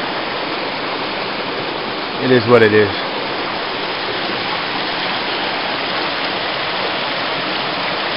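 Steady broadband rush of a mountain stream flowing close by at a solo backcountry campsite on a Tripyramid hike, continuous and fairly loud, with a brief spoken remark partway through.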